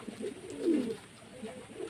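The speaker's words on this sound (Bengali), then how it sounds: "এটি নর পায়রা" A male pigeon gives a soft, low coo, faint and close, in a short murmuring burst with a little room noise around it.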